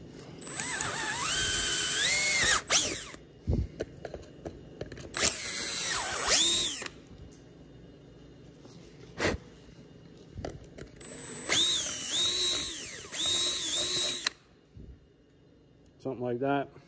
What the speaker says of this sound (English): I'm just gonna use a 1/4 inch drill bit